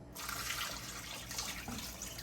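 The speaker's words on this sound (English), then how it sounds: "the next thing I do is I take a bunch of water" Tap water runs steadily into a pot to cover raw chicken during home meal prep, a continuous close hiss of pouring and splashing that starts abruptly and carries on alone throughout.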